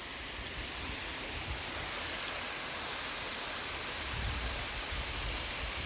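Broad, steady rush of running water from a waterfall in the Catskill Mountains at night, a dense continuous roar with no breaks and no voices.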